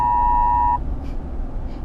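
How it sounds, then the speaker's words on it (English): A steady electronic beep tone sounds for under a second, then cuts off, leaving quiet background rumble with faint hiss. "there goes my phone"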